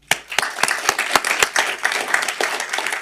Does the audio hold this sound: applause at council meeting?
yes